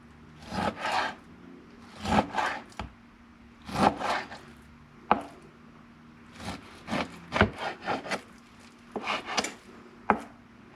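A knife slices London broil beef into strips for jerky on a wooden board, producing rhythmic rasping strokes in short clustered bursts with occasional sharp taps, close and clear with no talking.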